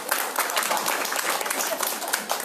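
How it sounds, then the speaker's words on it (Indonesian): Dense, steady applause from an audience at a public history discussion fills the whole stretch, a continuous wash of many hands clapping with no pauses. "Tepuk tangan untuk mereka berdua."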